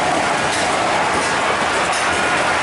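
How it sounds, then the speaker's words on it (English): A model railroad train runs on an exhibit display at a spring steam and gas engine show, making a loud, continuous rolling rumble with clattering wheel noise. "My favorite, the model railroad."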